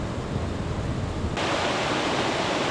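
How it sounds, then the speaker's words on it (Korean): Mountain valley stream on Bukhansan, water flowing steadily in a continuous broadband rush that grows louder midway, with no voices. "계곡 물소리가 아주 시원합니다."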